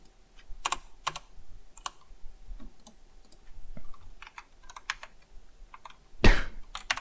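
Keys clatter on a computer keyboard as a math equation is typed, irregular close clicks in small bursts with one louder thump near the end and no talking.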